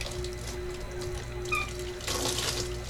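Steady running water splashing as it is poured onto hair, like a tap pouring, continuous and close with a faint hum underneath.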